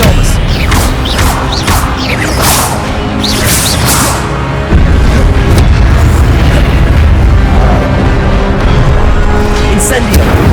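Booming fire spell blasts crash loudly and repeatedly in the Hogwarts Legacy video game, dense and close, mixed with shouted spell incantations from a voice.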